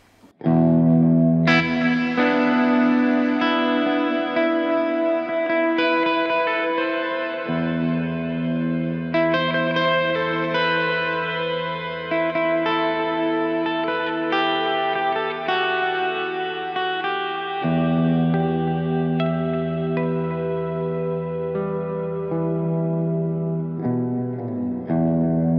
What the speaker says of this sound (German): Oder manchmal auch hier so einen ganz langen Hall.